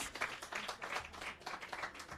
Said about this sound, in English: you're going to give her a very big round of applause